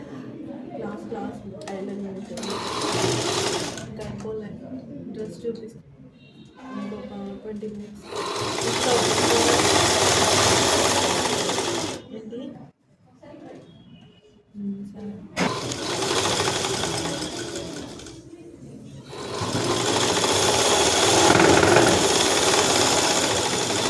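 A tailoring sewing machine top stitching a dress hem runs in four long, loud bursts with short pauses between, a voice talking over the stitching and in the gaps.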